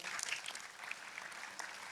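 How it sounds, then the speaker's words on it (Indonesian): Applause from a church congregation fills the room for under two seconds, a steady wash of many hands clapping at moderate volume without a voice over it. "Jangan tepuk tangan dulu saudara, dapat slot nggak cukup."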